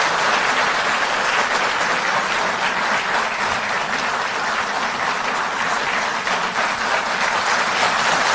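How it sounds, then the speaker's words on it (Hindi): A large crowd applauds loudly and continuously, a dense, sustained wash of clapping with no pauses. "तालियां बजती रहें जब तक सर"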